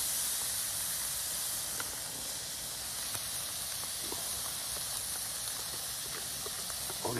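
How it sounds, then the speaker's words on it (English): Burgers cooked well done in a pan at a camp, giving a steady, close hiss and sizzle that runs unbroken throughout with a few small pops and crackles. "I'm burning my burgers."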